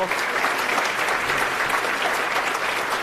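A round of applause from an awards-event audience, honoring a zoo team, is heard as dense, even clapping from a room full of people, fairly loud and continuous across the short span.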